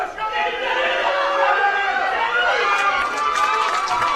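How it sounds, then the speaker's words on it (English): A crowd at the 2015 IPC Powerlifting European Open Championships in Eger cheers for a lifter attempting 150 kilos in the men's -49 kg class, a sustained mass of voices rising and swelling throughout. "Oh, the crowd are cheering it."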